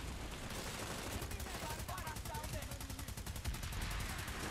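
Sustained automatic gunfire crackles nonstop in Planetside 2, a dense, even rattle of rapid shots that runs close and loud from start to finish.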